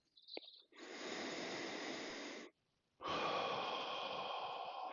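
Slow, deep breaths during a yoga stretching session: a long hiss of inhalation, a brief pause, then a fuller, steady exhalation, close and quiet with no speech.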